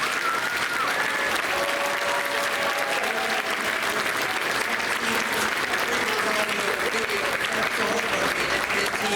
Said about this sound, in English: So I would love to just get a round of applause going for all of the other teams.